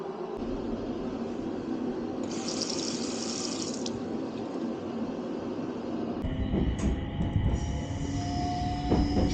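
A Senzan Line local train bound for Yamagata, Japan, rolls steadily along the rails with a constant low rumble, brief high wheel squeals, and clattering that grows louder near the end.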